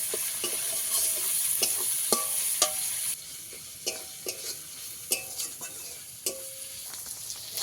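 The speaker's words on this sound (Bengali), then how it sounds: "পেঁয়াজটা আমি কিছুক্ষণ নেড়ে চেড়ে একটু লাল করে ভেজে নেব।" Onions stirred and fried in a pan while cooking a crab dish, a soft sizzle under repeated scraping strokes of a spoon against the pan, close and fairly quiet with no talking.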